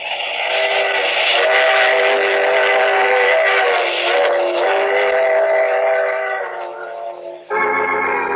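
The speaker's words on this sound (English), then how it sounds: "I take this same train every week at this time." A train in a radio drama sound effect rumbles past with a long, loud steam-style whistle that holds for several seconds, fades, then sounds again sharply near the end.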